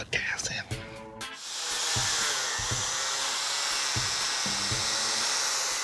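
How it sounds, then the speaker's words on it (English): A cutoff wheel slices through a rubber fuel hose on a car, a steady loud whining hiss held close after a brief moment of voice at the start. "Cotton, why are you using a cutoff wheel to cut that?"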